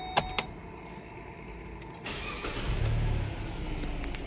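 Power windows whir on a used second-hand car with about 299,058 km, a steady electric motor hum starting midway after a couple of sharp clicks, close and moderately loud.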